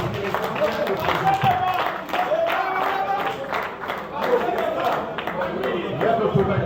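Audience applause for two people received by acclamation at a political party meeting, dense sustained clapping mixed with crowd chatter and scattered voices throughout.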